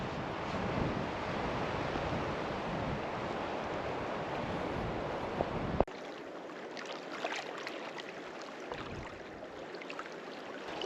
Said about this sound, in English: that wind is still whipping, and it is cold wind